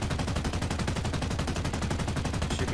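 A 20 mm aircraft cannon in the War Thunder video game fires a steady, rapid stream of loud, evenly spaced shots for the whole stretch, with no talk over it.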